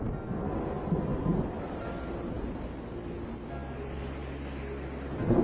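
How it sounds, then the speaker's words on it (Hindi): A coastal storm in southern Africa rumbles as strong winds blow, a low, continuous roar of wind and distant thunder with a steady drone rising near the end. "किनारों पर तूफान उठ रहे हैं, जिससे जबरदस्त हवाएं चलने लगी हैं।"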